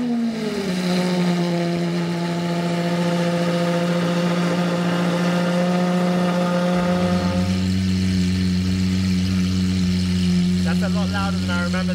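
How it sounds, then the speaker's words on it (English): A Lamborghini SVJ V12 settles from a loud start into a deep, steady idle whose exhaust drone drops in pitch partway through, running continuously up close with faint chatter near the end. "I think I'll do the honors and start the SVJ first."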